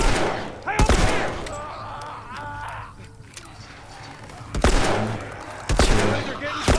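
Gunfire in The Last of Us game, several sharp close shots in bursts separated by pauses, with voices shouting and speaking in between.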